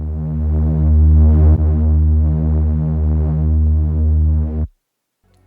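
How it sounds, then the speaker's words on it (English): A deep, buzzy reversed bass tone holds steady with a slight pulsing swell, then stops abruptly, leaving near silence. "I'm adding this simple reverse bass that sounds like this."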